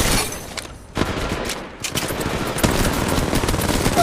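Rapid automatic gunfire in Apex Legends Mobile, close and loud, arriving in several bursts separated by brief lulls, the last burst running continuously to the end.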